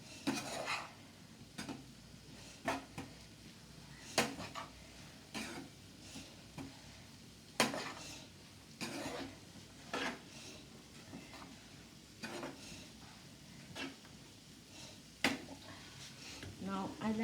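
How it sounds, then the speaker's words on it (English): Egg fried rice is stirred in a pan, giving scattered metallic clinks and scrapes of a utensil against the pan, quiet and irregular, with a cough or throat-clear in between. "give it a quick stir"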